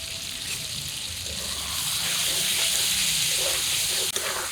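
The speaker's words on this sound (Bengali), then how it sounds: "কষানো মশলার উপরে এখন মাছগুলো দিয়ে দিই" Pieces of carp fish laid into a sautéed spice paste in a pan, giving a steady bright sizzle and hiss that swells slightly as the frying settles in, close by with no talking.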